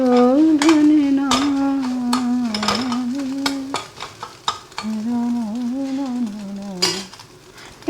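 A spatula scrapes and taps against a pan where egg sizzles for hakka chowmein, with a gentle frying hiss underneath while someone sings along almost the whole time.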